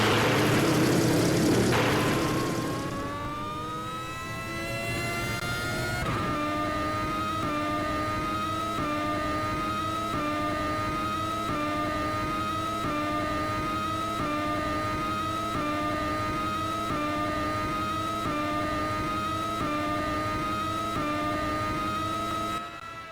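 Rover car in Kerbal Space Program revving hard with turbo engaged, a loud steady engine whine climbing in pitch, then holding a sustained high drone for about twenty seconds with no talk.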